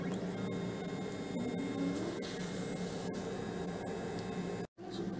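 An HPLC instrument running a purge gives off a steady mechanical hum and whir, constant and moderately quiet, cut off briefly near the end before resuming.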